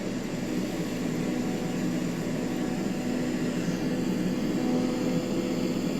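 The single-engine TBM 930 turboprop in Microsoft Flight Simulator produces a loud, steady, dense engine drone with a constant whine, unchanging throughout with no talk.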